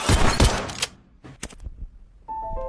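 A loud, rapid burst of gunfire in a horror movie scene, dense shots crowding together at first, then a few scattered sharp thuds, followed by a faint tonal ring.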